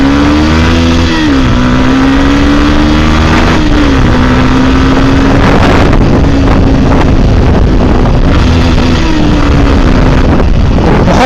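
A Yamaha R15 v2 motorcycle engine revs loudly and close, its pitch climbing and dropping in repeated throttle blips over a steady idle, with heavy wind buffeting throughout.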